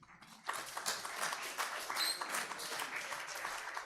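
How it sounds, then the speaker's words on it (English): Audience applause at a Rosh Hashanah evening service, a brief burst of clapping that starts suddenly and holds steady at moderate volume. "Usually the appeal does not get applause"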